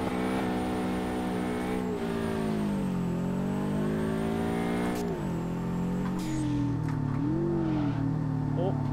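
A Subaru BRZ braking and sliding sideways in the drift game DRIFT21, its engine note sweeping up and down loudly with a short dip as the car slows, while a person talks over it.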